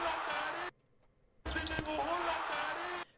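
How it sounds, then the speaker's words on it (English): A basketball bank shot sound effect plays as two short bursts separated by a brief gap, with a sharp thud of the ball striking in the second burst. "it's like kind of like a bank shot kind of sound"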